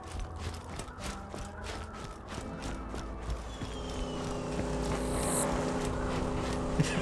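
A car driving in the video game Borderlands, a steady mechanical engine drone with clicking, gear-like textures that swells slightly louder toward the end, with no talking over it.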